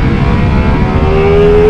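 A Ducati Multistrada V4S motorcycle engine pulls hard in third gear, a loud, close, continuous roar with its pitch climbing steadily as it accelerates.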